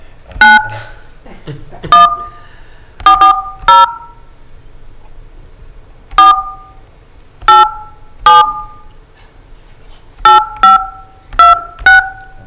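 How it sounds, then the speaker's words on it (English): Touch-tone DTMF keypad beeps dialed on a landline call during a county commissioners' meeting: about a dozen clear, loud tones in irregular clusters with short pauses between, no talking over them. "Those of you who know what the DTMF tones are"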